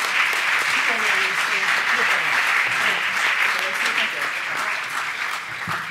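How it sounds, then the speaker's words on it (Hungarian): Church audience applauding at a Sunday evening service, dense sustained clapping filling the room for several seconds, with voices and cheers mixed in throughout. "Még egyszer adjunk egy nagyon nagy tapsot Stewéknak."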